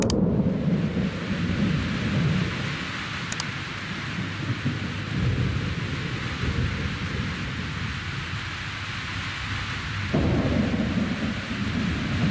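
Heavy rain pours steadily beside the Mara River in East Africa while thunder rumbles through a storm, with a sharp crack near the start and a brief lull before the downpour swells again near the end.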